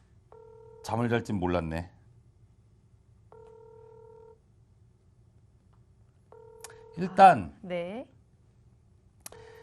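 A telephone call rings unanswered in steady repeated tones, and the connection keeps failing. Short bursts of voices break in between the rings.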